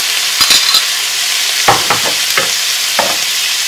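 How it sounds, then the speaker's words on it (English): Browned beef and bacon for beef bourguignon are stirred in a pot, with a steady close frying sizzle and several scraping, clattering strokes of a spoon against the metal in irregular bursts. "stir that all up"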